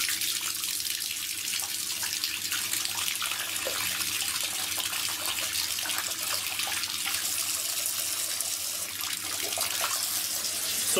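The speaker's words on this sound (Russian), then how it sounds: "Воду включаю теплую, чтобы не было проблем у мыша от переохлаждения." Warm water runs from a tap in a steady, hissing stream with light splashing, continuous and fairly close throughout with no talking.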